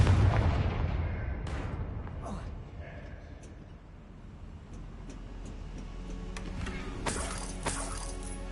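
Confringo fire spell blast in the video game Hogwarts Legacy, a loud booming burst at the start followed by crackling, rumbling game effects and scattered impacts through the rest.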